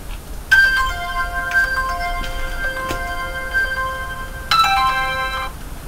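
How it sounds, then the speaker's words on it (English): A cell phone rings with a bright, repeating electronic ringtone, called automatically by a home water presence detector and valve shut-off system after it detects water. The ring comes through twice, clear and close, with no talking. "the system will call my cell phone to inform me that water was detected"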